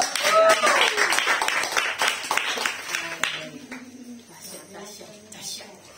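A church congregation claps their hands in a quick scattered burst that fades after a few seconds, followed by a quieter voice.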